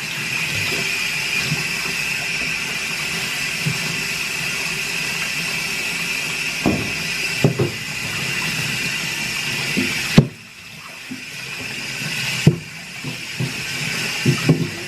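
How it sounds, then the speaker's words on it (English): Running water rinses paint off a wooden-framed screen-printing screen: a steady, close rush of spray with a few soft knocks and clunks, and a brief drop in the flow near the end. "So, kind of washing it down, rinsing it, sides."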